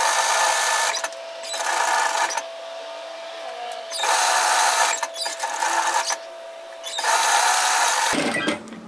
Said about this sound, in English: I'm going to stitch a line at 1 centimeter